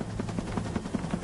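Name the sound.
helicopter stopping to refuel at offshore platform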